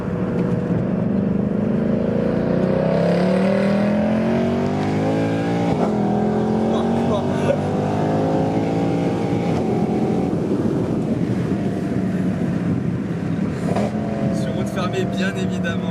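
Mercedes C63 AMG with a V8 engine and Black Series kit accelerating hard, a loud, sustained engine roar with rising gear sweeps and shifts throughout, heard from inside the car.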